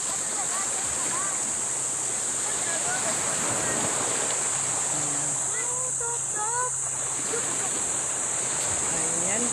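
Steady broadband rush of surf washing in at a beach in the Philippines, with birds chirping and calling over the top throughout.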